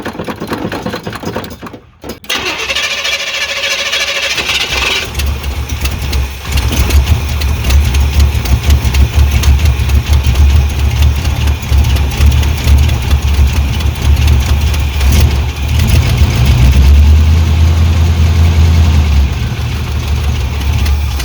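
A truck engine cranks over briefly, then catches and settles into a loud, steady rumbling idle that runs on close by for the rest of the span.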